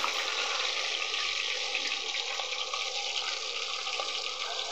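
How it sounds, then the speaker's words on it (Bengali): Rui fish coated in turmeric, chili powder and salt fries in oil, giving off a steady, even sizzling hiss close by with no break. "আমি আর এক পাশ উল্টিয়ে দিয়ে ভালো করে ভেজে নেব মাছটাকে"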